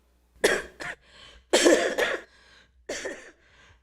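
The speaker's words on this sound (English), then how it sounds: "today I'm still coughing" Several harsh coughs in three bursts, each a sharp hack followed by a rougher trailing cough, close and fairly loud with brief pauses between.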